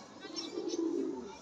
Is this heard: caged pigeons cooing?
yes